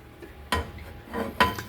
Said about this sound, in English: So I got the pan going.